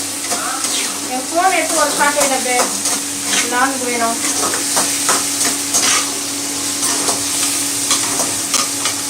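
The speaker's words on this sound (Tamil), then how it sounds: "ஸோ வெங்காயம் நல்லா கோல்டன் ப்ரௌன் ஆகட்டும்" Onions frying toward golden brown in a pan for a Tamil fish kulambu, a loud continuous sizzle with repeated spatula scrapes and stirs close by, and no speech over it.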